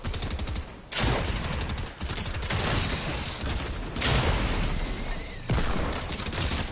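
Combat SMG fire in a shooter game comes in rapid, loud bursts, several sustained volleys separated by brief gaps, close and dominant with no talk over it.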